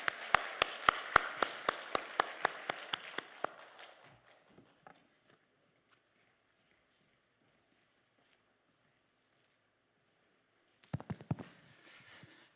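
A church congregation at a prayer retreat service claps in slow, regular unison beats that fade out after about four seconds. A long quiet stretch follows, then a short burst of clapping near the end.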